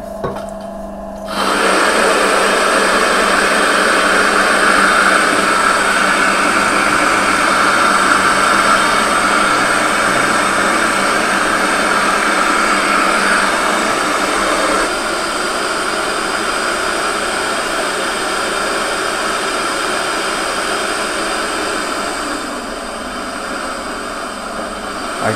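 A stone grain mill grinds whole wheat into fine flour, starting abruptly and then holding a loud, continuous broadband roar with a steady motor hum, close by and easing slightly near the end.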